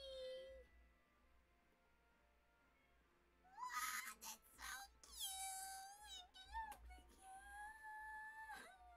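A petted cat in the farming game My Time at Portia meows repeatedly, with bright, drawn-out mewing calls in the second half, some rising and wavering, over a quiet game background with faint music.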